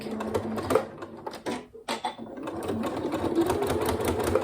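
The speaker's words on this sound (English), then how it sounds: "as I start sewing this time, I am going to do a little backward stitch" A sewing machine stitches a short backward stitch on a zipped pencil case, rapid close mechanical chatter that halts briefly midway, then resumes in a steady run.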